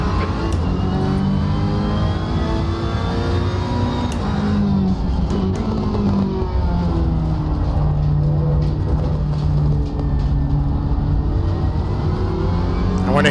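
A GT race car in Assetto Corsa Competizione laps Spa with its engine droning steadily. The pitch rises and falls through gear changes and corners, and the sound is loud and continuous throughout.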